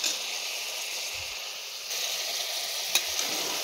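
Ground masala paste frying in oil in a pan for an egg chicken fry, a soft continuous sizzle with faint stirring and one small sharp clack near the end, no voices.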